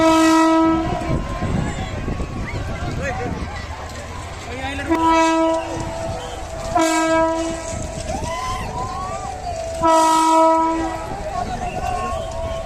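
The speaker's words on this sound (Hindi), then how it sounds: "दुल्हिन जका सजाओल गेल रेल जनकपुर धाम आबि गेल" A train pulls into Janakpur Dham railway station, sounding repeated loud horn blasts over the rumble and clatter of rolling wagons, with voices in the background.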